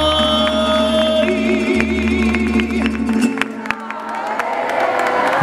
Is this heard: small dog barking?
no